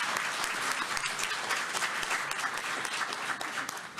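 An audience at a school board business meeting claps together, a loud, continuous round of applause with crisp individual claps that tapers slightly near the end.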